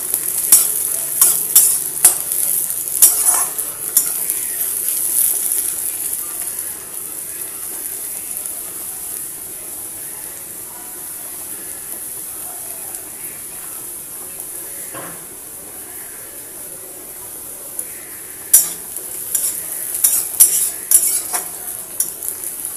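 Onions frying to a light brown in a pan on an Indian home stove, with a steady close sizzle and repeated scrapes and clinks of a spatula stirring, busier at the start and end.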